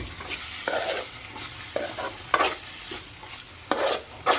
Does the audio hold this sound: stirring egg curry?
yes